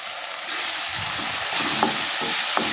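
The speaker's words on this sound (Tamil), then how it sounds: "இந்த தக்காளி வந்து நல்லா மேஷ் ஆகிற அளவுக்கு நல்லா வந்து வதக்கி விட்டுக்கணும்" Tomatoes sautéing in a pan for a mutton leg gravy give a steady close sizzle, with soft scraping stir strokes and a couple of brief clinks toward the end, no voices.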